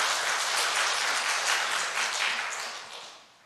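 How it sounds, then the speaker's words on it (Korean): A church audience applauds for the choir conductor at a congregation-wide praise seminar, dense clapping sustained for a few seconds, then tapering off toward the end. "지휘자를 위해서 박수 한번 쳐요"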